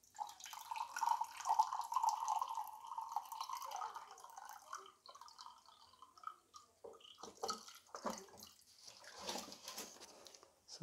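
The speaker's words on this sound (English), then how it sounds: "I will just like open one port and pour the water" Water poured from a glass into an opened cell port of a home inverter backup battery, a faint trickling pour at first, followed by scattered drips, clinks and handling noises.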